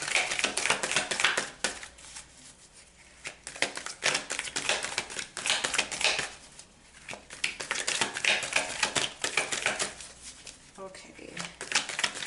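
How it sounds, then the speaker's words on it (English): Tarot cards are shuffled by hand in repeated rapid riffling bursts with brief pauses between them, close and crisp, and no talk over them. "I haven't shuffled like this in a while."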